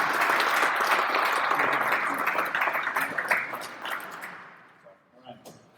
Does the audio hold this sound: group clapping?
yes